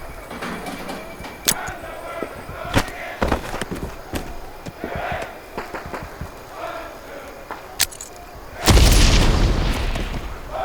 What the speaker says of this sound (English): Grenades are a powerful explosive item.